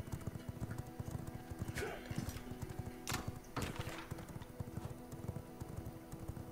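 Horse hooves clip-clopping in a steady rhythm while riding in the video game V Rising, faint and continuous beneath quiet game ambience, with a couple of brief louder thumps.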